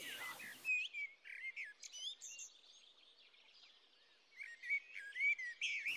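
A warbler singing in open heathland at Plaines-Villes, Ploufragan, Côtes d'Armor: a series of thin, high chirps and whistled phrases, clear and fairly close, with brief pauses between bursts against a quiet background.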